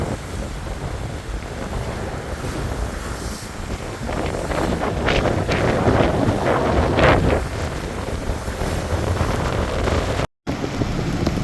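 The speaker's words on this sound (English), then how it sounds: "But there are the waves crashing on shore there." Waves crash on the shore at a St. Petersburg, Florida waterfront as Hurricane Idalia's wind roars, with heavy wind buffeting on the microphone and surf surges swelling throughout, loud and continuous with no talking.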